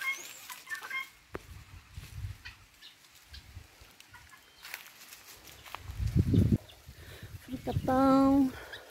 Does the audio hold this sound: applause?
no